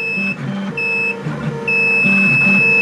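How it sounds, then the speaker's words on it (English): A multimeter's steady high-pitched continuity beep sounds three times in short bursts over the whirring, stuttering hum of nearby 3D printer stepper motors. "it would beep, your multimeter would beep, and then your wire is okay."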